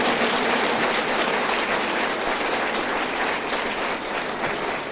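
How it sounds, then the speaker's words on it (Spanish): A church congregation applauding together during a sermon on praise, a dense, steady roar of clapping that fills the space at close range without a break. "Dele otro aplauso."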